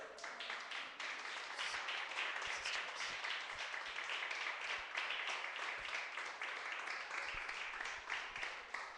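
A church congregation at a Saturday fasting service claps together in a lively, fairly fast round of applause, quiet and somewhat distant, with individual hand claps standing out from the steady patter.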